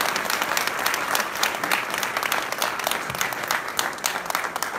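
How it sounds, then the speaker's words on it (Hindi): A live bhajan concert audience gives the musicians a sustained round of dense applause, loud and even throughout, without voices standing out. "तो जोरों से तालियां मिले उस्ताद जी को"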